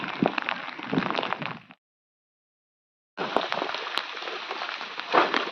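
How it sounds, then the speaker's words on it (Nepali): Rain falling during a mountain trek, a steady hiss of drops that cuts out abruptly for over a second before returning with a few sharp ticks, fairly faint and with no voices. "पानी पर्दैछ, हामी तल झर्दैछौँ।"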